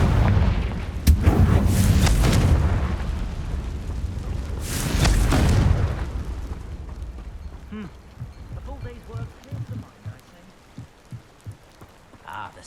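The Confringo explosion spell in the video game Hogwarts Legacy sets off two loud booming blasts with crackling debris. Quieter rustling follows after the second blast.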